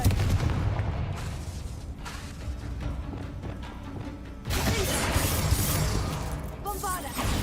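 A Confringo fire blast spell goes off in Hogwarts Legacy, heavy booming bursts in dense, continuous combat noise, with a sharp fresh surge about halfway through and crackling tails after it.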